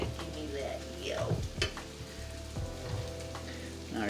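Pretzel-breaded chicken deep frying in hot oil crackles and sizzles steadily, close up, with a few clinks of utensils and no clear talking.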